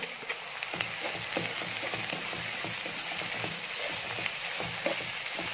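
Onions and shallots frying in oil in a pan for a Kerala beef dish, a steady even sizzle with faint stirring ticks, close but moderate in level, no voices.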